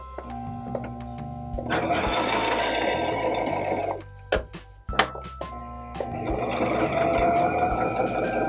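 A sewing machine stitches a sheepskin grooming mitt for a horse in two long steady runs of loud whirring, broken by a pause with clicks and handling noises.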